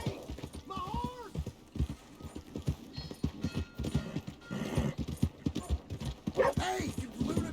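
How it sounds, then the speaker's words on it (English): Rhythmic horse hooves clopping steadily alongside a whinny in the video game Red Dead Redemption 2, with people talking over the top and music beneath. "Hey, my horse!"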